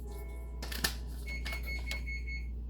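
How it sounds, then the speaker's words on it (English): A faint electronic oven timer beep sounds amid light clatter and handling noises in a quiet room, with a steady low hum underneath. "that was my oven beeping."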